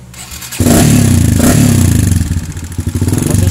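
A Kawasaki KLX 150 motorcycle with a PE 28 carburetor starts after a brief quiet moment, its single-cylinder engine catching suddenly and settling into a loud, close, lumpy idle with rapid uneven pulses.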